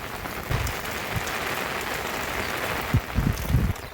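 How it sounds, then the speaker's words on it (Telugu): Steady rain hisses continuously, with a few low thumps and knocks partway through; no voices. "నిన్నటి నుంచి నాన్ స్టాప్గా వర్షం కంటిన్యూ అవుతూనే ఉంది"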